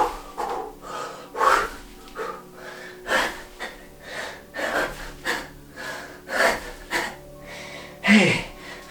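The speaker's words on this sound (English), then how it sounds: "I hope you enjoyed my breathing." Heavy, ragged breathing from a person worn out after a set of pull-ups, a series of loud gasping inhales and puffing exhales repeating every second or so, close up with no talk.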